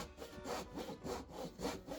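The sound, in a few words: pole saw trimming wooden sub-roadbed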